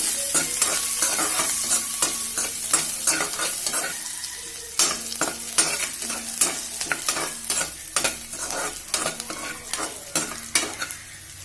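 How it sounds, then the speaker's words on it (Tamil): Garlic frying in oil in a pan while cooking a chickpea kuzhambu: a steady sizzle runs throughout, broken by frequent scraping clinks of a spatula stirring against the pan, close and without speech. "இதை பூண்டு நல்லா எண்ணெயிலே வதங்கினாதான் நல்லா இருக்கும்."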